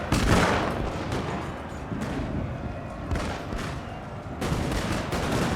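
Musket volleys crackle in a video game depiction of Waterloo, with dense overlapping gunfire in rolling waves, some shots sharper and closer, under a constant din of battle noise and no talking.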